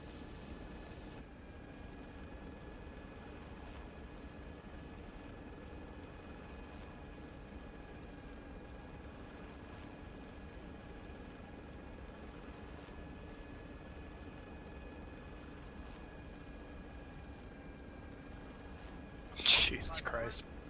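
A helicopter in the military sim game Arma, during a ShackTac session, drones steadily throughout with a constant low engine and rotor hum, a few faint voices and a brief louder clatter near the end.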